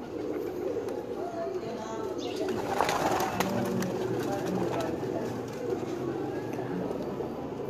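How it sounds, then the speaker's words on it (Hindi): Dub pigeons coo softly in a loft at Lilyani, low repeated calls against a busy background, with people talking nearby throughout. "ये देखें जी, ये डब वाले कबूतर है"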